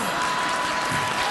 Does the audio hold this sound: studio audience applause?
yes